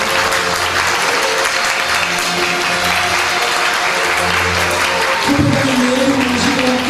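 A seated audience at a special lecture event claps warmly and continuously in steady applause as a flower bouquet is presented, with a faint voice and tonal hum beneath.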